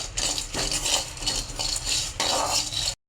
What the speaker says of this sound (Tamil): இப்போ இதை வேற ஒரு பாத்திரத்தில் மாற்றிடலாங்க